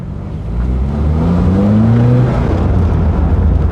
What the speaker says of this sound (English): we are suffering with a high idle